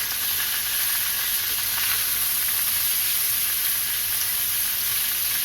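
Chicken sears in a hot pan with a loud, continuous sizzle and hiss that holds steady from start to finish, close by and with no talking over it.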